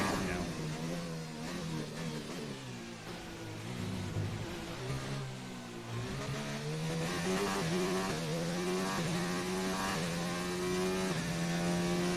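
An F1 2019 race car engine in the video game drones steadily, its pitch climbing and dipping through gear changes as it accelerates, continuous and fairly close without any talk.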